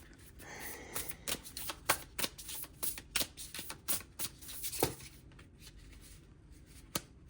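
Playing cards are handled and drawn in a quiet room, giving a series of soft, crisp flicks and slides in uneven bursts, then sparser single snaps toward the end.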